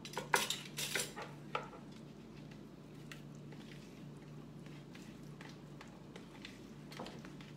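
A spoon clatters against a pan while stirring a sour cream beef bake, a few sharp metallic knocks at the start, then quieter intermittent scrapes over a low steady hum.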